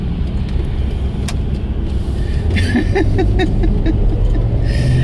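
Steady road traffic on a busy morning street, a continuous wash of car engines and tyre noise close by, with one vehicle passing more distinctly partway through.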